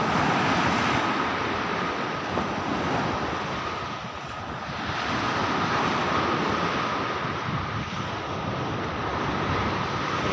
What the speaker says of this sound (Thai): ดูคลื่นครับ